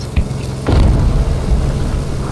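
Enemy Scimitar armoured vehicle destroyed in the Squad military video game: a single loud, close boom with a sharp onset, followed by a long, heavy rumbling tail.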